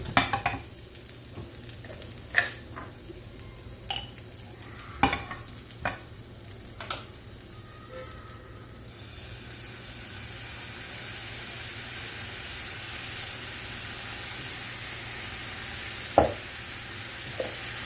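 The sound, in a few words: onion caramelizing with honey in a pan, stirring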